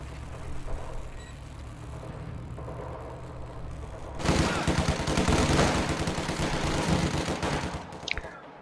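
Machine gun fire in the World War II strategy game Company of Heroes 2, sustained rapid bursts starting midway and continuing loudly for several seconds over a background of battlefield noise.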